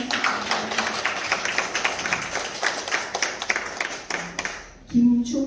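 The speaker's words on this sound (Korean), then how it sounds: "여러분 큰 박수입니다" An audience claps at a book concert. The applause is moderate and uneven and fades after about four seconds, and a voice then speaks briefly at the end.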